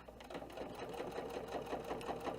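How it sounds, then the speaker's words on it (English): A sewing machine stitches and back-stitches fabric while an embellishment organizer is being made, giving a steady, close, rhythmic mechanical whirr with regular pulsing throughout. "So just bear with me while I sew this."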